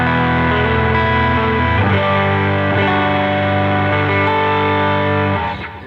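Electric guitar played through a Tube Screamer distortion pedal, a smooth, moderately driven overdriven tone with sustained chords and notes ringing loud and steady, close and continuous before fading at the end.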